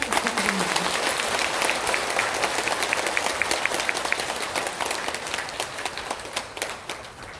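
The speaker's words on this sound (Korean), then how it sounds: "큰 박수 부탁드립니다" Applause from an audience at a Buddhist Diamond Sutra dharma assembly in Changwon, a dense, steady wash of clapping that holds strong throughout and eases slightly at the end.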